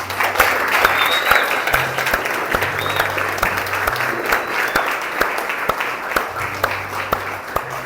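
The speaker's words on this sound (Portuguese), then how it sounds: "Vamos aplaudir ao Senhor" A church congregation applauds for several seconds: dense, sustained clapping from a crowd in a hall, close and fairly loud, with a few scattered voices underneath.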